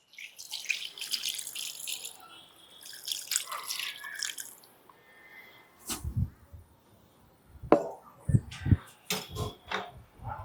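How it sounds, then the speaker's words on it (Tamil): Water is poured into paneer butter masala as it cooks, splashing and trickling in bursts, with close, uneven liquid drips and pours after a quieter stretch. "தேவையான அளவு தண்ணி ஊற்றிக்கிடுவோம்."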